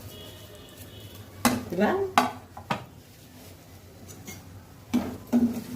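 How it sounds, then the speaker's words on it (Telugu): Semolina roasting in ghee in a pan, with scattered scraping stirs and metallic clinks of a spoon against the pan over a faint sizzle; a brief voice is heard. "నెయ్యి వేసుకొని రవ్వ వేయించుకోవాలి."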